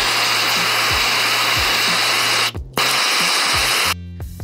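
A torch roars steadily, burning old grime out of the body mounts on a Triumph Spitfire, a loud continuous hiss that breaks off briefly near the middle and drops in pitch toward the end.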